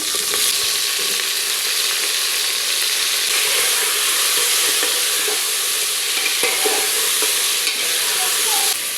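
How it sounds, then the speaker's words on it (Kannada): Ivy gourd pieces with curry leaves and spices frying in a pressure cooker, giving a steady, loud, continuous sizzle with occasional stirring scrapes throughout. "ಈ ತೊಂಡೆಕಾಯನ್ನೆಲ್ಲ ಕುಕ್ಕರಿಗೆ ಹಾಕಿ ಇದನ್ನು ಚೆನ್ನಾಗಿ ನಾವೀಗ ಫ್ರೈ ಮಾಡಬೇಕಾಗುತ್ತೆ"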